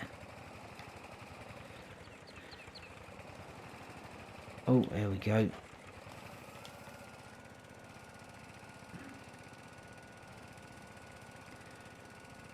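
A Farming Simulator 22 tractor engine labors under load in a steady, moderately loud drone, with a brief burst of a voice partway through before the engine carries on alone.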